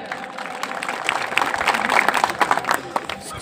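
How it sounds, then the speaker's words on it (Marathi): A crowd at a village wrestling ground applauds for Dajibhau Pawar, a swelling burst of many hands clapping at once that builds and holds fairly loud for several seconds. "एकदा दाजीभाऊ पवार साठी आपण सर्वांनी टाळ्या करायच्या आहेत"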